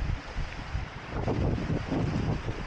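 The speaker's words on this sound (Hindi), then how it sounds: "ये देखो कितनी तेज़ लहरें आ रही हैं" Strong sea waves wash onto a beach at Gwadar under gusting wind, a rough, continuous surging roar with wind buffeting the microphone, heard up close and without voices.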